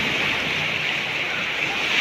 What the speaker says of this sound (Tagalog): Oh, lakas ng alon nito guys.